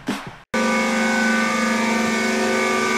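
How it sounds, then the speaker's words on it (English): Vibratory stress relief on a welded steel frame for a DIY industrial CNC machine: after a brief silence, a loud, steady mechanical drone with a strong pitched hum starts and holds evenly to the end. "My attempt at vibratory stress relief, or VSR as it's known."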